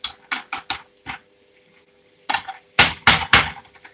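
A teaspoon being cleaned and rinsed in a home kitchen, heard as a series of sharp metallic clinks and taps in two bursts, close and fairly loud, with brief pauses between them and no talking.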